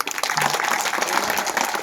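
Applause at a kirtan: a crowd claps in a dense, steady burst that carries on for the whole stretch, fairly loud and close, with no words spoken over it.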